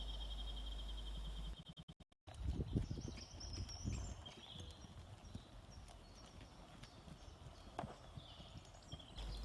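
A horse trotting in a riding lesson, its hooves striking the ground in a steady two-beat clip-clop that is moderately close, after a short burst of electronic glitching at the start.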